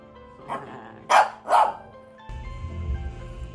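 Pet dogs about to be bathed at home give three quick sharp barks close up, then a low rumbling background noise takes over.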